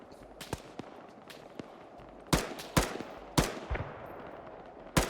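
Sharp rifle shots crack in an Arma 3 firefight, about seven separate reports, some single and some in quick pairs, loud and close over a low ambient bed.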